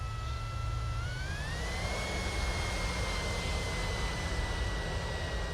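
Model aircraft engine in the RealFlight G5.5 simulator game: a steady whining drone that rises in pitch after about a second and then holds level, continuous and moderately quiet over a broad hiss.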